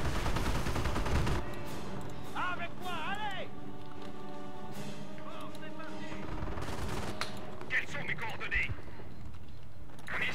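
Bursts of Thompson submachine gun fire in the World War II strategy game Company of Heroes, set at Saint-Lô, mixed with other game battle effects, explosions and music. Someone talks over much of the action.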